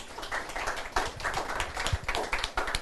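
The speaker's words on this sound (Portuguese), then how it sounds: "Queria dar uma salva de palmas para o Ari" An audience at a lecture on becoming a world debating champion claps for the speaker, a dense, steady patter of many hands filling the room at moderate level without voices.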